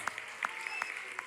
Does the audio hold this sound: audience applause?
yes